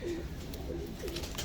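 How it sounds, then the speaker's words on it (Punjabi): Old pigeons kept in a loft cooing nearby, three or four soft low rolling coos at a steady rhythm over faint background noise. "ਇਹ ਬੜੇ ਪੁਰਾਣੇ ਕਬੂਤਰ ਆ ਜੀ"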